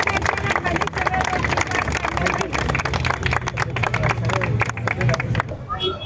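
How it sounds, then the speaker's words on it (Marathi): A crowd at a hunger strike protest breaks into applause, with dense, fast clapping from many hands that runs for several seconds, then thins out and stops, under some voices. "चला टाळ्या"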